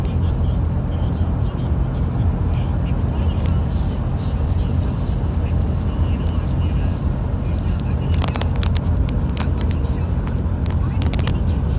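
Ford EcoBoost pickup cruising at highway speed while towing a 6,000 lb trailer, a steady low engine and road drone with wind noise filling the cab throughout, with soft talk underneath.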